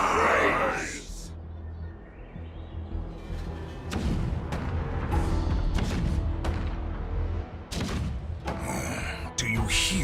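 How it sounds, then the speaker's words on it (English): Cannon fire in Honkai Star Rail rolls as a deep, continuous low rumble with scattered heavier thuds, loud and sustained throughout the clip, opening with a burst of noise. "The rumble of the cannons."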